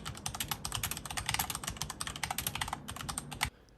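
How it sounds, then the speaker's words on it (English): Rapid typing on a Corsair K63 wireless mechanical gaming keyboard with Cherry MX Red switches and hollow-sounding keys, a dense close stream of clacks for about three and a half seconds before stopping, with no talking. "typing is loud, and I think that's due to the keys being hollow"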